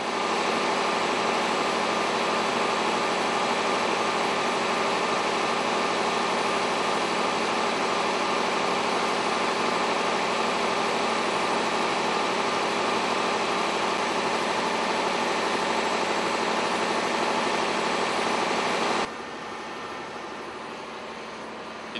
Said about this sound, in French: Il y a 3 moteurs de cogénération qui sont alimentés par le biogaz d'une puissance totale de 750 kW.